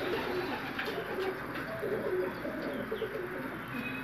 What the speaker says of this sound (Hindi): बहुत जबरदस्त कबूतर है जी